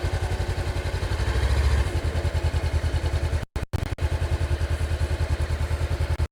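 A motorcycle engine runs loud and close on a muddy forest trail in dense fog, revving steadily with a throbbing pulse and a couple of brief cutouts midway.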